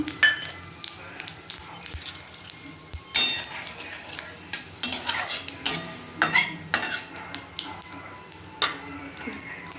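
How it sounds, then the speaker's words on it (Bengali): Bay leaf and whole cumin seeds tempering in hot oil in a pan while making an egg and taro root curry, with a soft sizzle under repeated clinks and scrapes of a metal spoon against the pan. "তেজপাতার গোটা জিরে ফোড়ন দিয়ে দিলাম"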